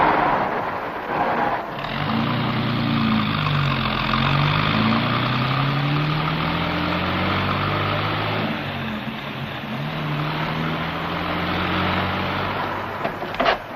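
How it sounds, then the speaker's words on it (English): An older car reversing around a large tree, its mid-pitched engine droning steadily close by, the pitch rising and falling as the driver backs and maneuvers, with no talk over it. "Put it in reverse and back around that big tree."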